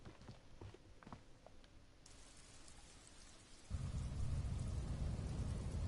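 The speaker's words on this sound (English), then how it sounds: "Oh, it's raining." Steady rain patters in the video game Disco Elysium, with a low rumble of thunder before the downpour swells much louder and heavier partway through, no voices.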